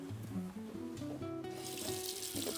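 Water pours steadily from a tap into a pot of beans for Brazilian feijoada, a continuous splashing rush that grows brighter toward the end, with soft background music underneath.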